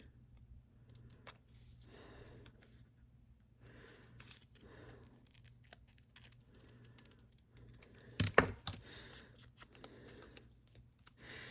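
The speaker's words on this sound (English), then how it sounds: "I think I may need to grab my scissors again and kind of trim this down a little bit" Scissors trim a paper doll cut from vintage-fashion paper, giving one loud, sharp snip near the middle of an otherwise quiet stretch, with faint tapping and handling noise around it.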